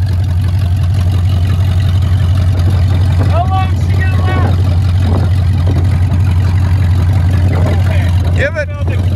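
A Jeep engine idles with a loud, steady low rumble throughout, while several people talk over it and a few short squeaks break through near the end.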